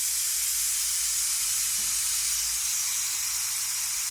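A pressure cooker hisses steam while cooking Spanish-style bangus sardines: one steady, loud, unbroken hiss that holds at the same level from start to finish, with no voices.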